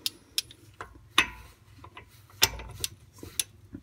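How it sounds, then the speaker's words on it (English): A ratcheting socket wrench clicking on the pinion nut of a Ford Mustang rear differential, about eight sharp, close ticks in irregular bursts over a quiet background. "this is obviously a ratcheting socket wrench"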